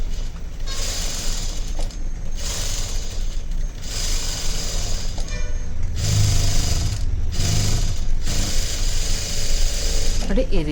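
Sewing machine stitching a design blouse, running in several loud, sustained bursts with brief pauses between them, a steady mechanical whir with rapid needle rattle throughout.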